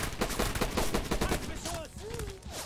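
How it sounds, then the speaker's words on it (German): Gunfire in the World War II shooter Rising Storm Red Orchestra 2, heard as a rapid burst of loud close shots in quick rhythm, then tapering off as players talk and exclaim over the end. "Da wird schon geschossen."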